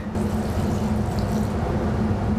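White balsamic vinegar is poured over apricots in a kitchen, a steady close liquid pour with no talk.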